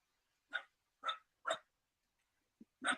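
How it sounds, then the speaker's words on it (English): A small dog barks four times, sharp evenly spaced yaps with a brief pause before the last one and a short softer sound just before it. The barks are fairly close, alone against silence. "I don't know what she's barking at."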